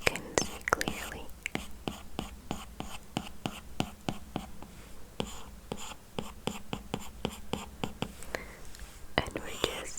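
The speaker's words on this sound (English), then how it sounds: "we're just planning and making iPad sounds or writing sounds." A stylus taps and scratches across a hard glass screen in quick, steady clicks, close and fairly quiet, with soft breathy whispering underneath.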